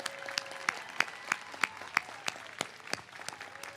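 Audience applause at the 2022 USC Keck School of Medicine Primary Care PA Program commencement ceremony, heard as a steady run of sharp individual claps over a soft crowd wash, moderately distant and fading slightly toward the end.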